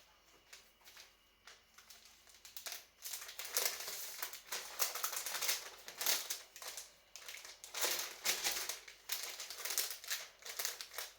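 Close, continuous crinkling and rustling of cellophane wrap around a gift bag, crackling in uneven bursts as it is handled and folded.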